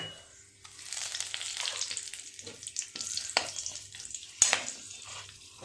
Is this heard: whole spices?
yes